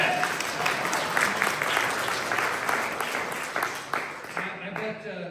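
Audience applause fills a Founder's Day presentation, a steady dense patter of many hands that thins slightly toward the end, with voices mixed in underneath.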